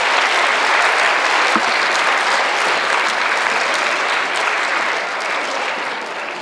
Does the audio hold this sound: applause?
yes